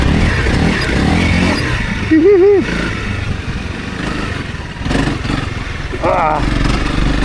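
A 300 Rally dirt bike engine drones loudly and steadily while riding over whoops, with brief pitch swoops as the throttle changes and a voice talking over the engine noise partway through.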